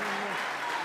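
Audience at a Catholic apologetics talk clapping in a dense, even wash of applause, with a faint voice underneath during the brief moment.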